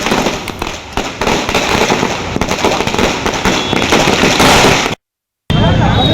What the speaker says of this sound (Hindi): रंका मोड़ चौक पर आतिशबाजी भी की गई, जिससे पूरा इलाका रोशन हो उठा।